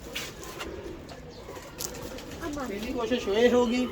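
Nizam pigeons with green throats coo in a low, soft, repeated rolling murmur, rising a little toward the end over a quiet background with faint chirps.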